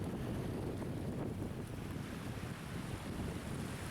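Strong wind blows across an Oregon desert, a steady, loud roar that buffets the microphone throughout with no let-up and no voices.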